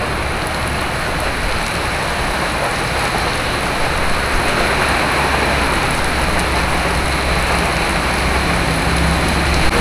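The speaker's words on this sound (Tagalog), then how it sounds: "Nabot na ako ng ulan." Steady heavy rain falling during a motorcycle ride on a road in Nueva Ecija, a constant broadband hiss with road and engine rumble underneath, unbroken and fairly loud for the whole stretch.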